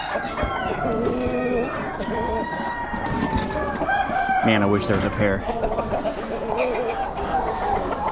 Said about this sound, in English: Couple more roosters